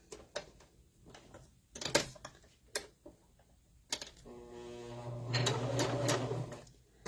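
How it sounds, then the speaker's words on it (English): A home sewing machine stitches a three-sided fabric Christmas tree, with clicks and handling taps first, then a steady close whirring run of stitching toward the end. "what I'm doing now is I'm sewing up the 3-sided tree for you just real quick"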